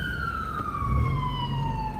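An ambulance siren wails steadily in city traffic on a Bronx-to-Manhattan drive, loud and close with a slowly falling tone over rumbling road noise.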